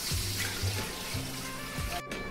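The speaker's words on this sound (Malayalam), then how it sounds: "വെള്ളം ഒഴിക്കുകയാണ്" Water pours steadily into a cooking pot for biryani, a continuous close splashing stream that runs throughout with a brief break near the end.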